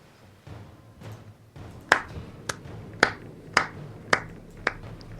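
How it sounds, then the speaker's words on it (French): A single person clapping hands about six times, sharp close claps spaced unevenly over a quiet background. "j'étais obligé d'applaudir pour cette magnifique blague toute pourrie"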